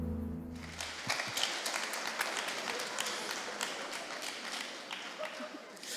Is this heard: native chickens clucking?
no